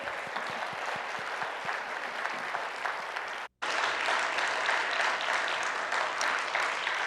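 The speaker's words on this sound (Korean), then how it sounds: "뜨겁게 한번 박수 하실까요?" A church congregation applauding warmly, steady dense clapping that breaks off for a brief moment and then resumes just as strongly.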